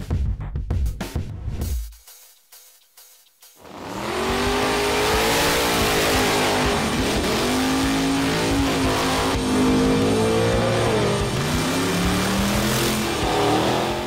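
Seven-second drag racing street cars at Hot Rod Drag Week, a loud engine roar building from near silence into sustained, rising high-rpm acceleration that holds for about ten seconds.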